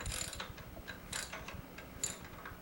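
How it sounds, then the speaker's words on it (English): A wrench works the blade nut on a Yard Machine gas edger, a quiet close run of soft ratcheting clicks and small metallic taps lasting a few seconds. "Just hold it with one hand and then put the wrench on the nut here."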